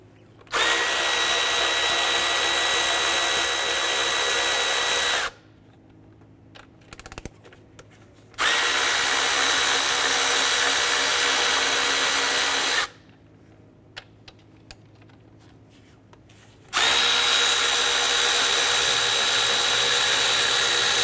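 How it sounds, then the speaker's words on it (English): A power tool drives out the 10 mm valve cover bolts on a 2001–2005 Honda Civic engine, three long, loud, steady whirring bursts, each lasting several seconds, separated by quiet pauses with faint clinks. "We're going to remove our 10 millimeter valve cover bolts here."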